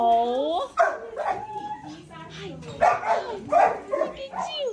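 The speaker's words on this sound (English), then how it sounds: "This dog." A dog at an animal shelter yips, whimpers and barks in short repeated bursts close by, mixed with people talking over it.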